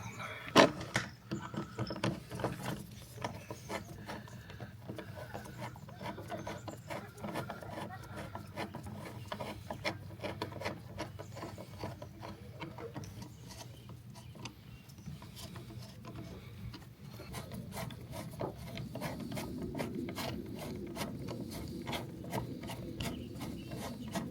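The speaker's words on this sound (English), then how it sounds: "Start screwing these things down." Fasteners on a bus being screwed down with a ratchet, a long run of rapid rasping clicks and rubbing strokes, steady and close, without speech.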